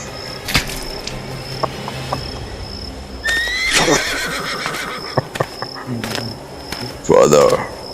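Royal horses in a dramatic drama scene: a loud close whinny in the middle and another near the end, over steady cricket and insect chirping, with a few hoof knocks.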